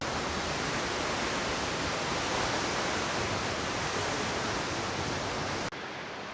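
A waterfall pours down into a river in a dense, steady roar of rushing water, loud and unbroken until it cuts off abruptly near the end.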